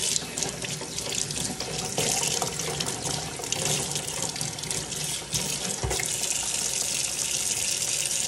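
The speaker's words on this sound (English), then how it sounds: "All I'm gonna do now is give it another good rinse to get any kind of sand or anything like that I missed." Gutted razor clams are rinsed under a running tap, giving a steady, close hiss and splash of water throughout with small shifts as the clams move in the stream.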